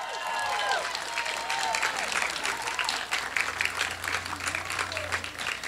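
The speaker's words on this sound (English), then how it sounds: "Let's give those boys and girls another round of applause," A school audience applauds a children's chorus with sustained, fairly loud clapping, while faint voices and a few high squeaks or whistles rise over the crowd.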